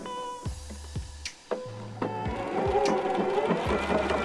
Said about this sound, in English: I'm going to be sewing through canvas material. So I want to make sure that the walking foot can kind of push that through